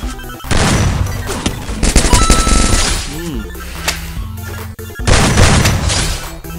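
Gunfire in a shooter video game set on a Thai server: loud, dense bursts of shots and booms in quick clusters, a brief lull with a rising tone, then another heavy volley near the end.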